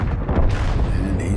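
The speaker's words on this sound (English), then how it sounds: "Another shot into the turret." A tank cannon shot from an M26 Pershing in a combat video game lands as a heavy boom at the start, then a rumbling tail, with a voice talking over it.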